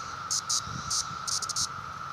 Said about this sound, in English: Brought you out back here after tying the video so you could hear the cicadas.